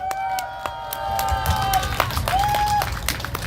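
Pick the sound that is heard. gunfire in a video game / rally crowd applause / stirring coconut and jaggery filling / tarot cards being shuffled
rally crowd applause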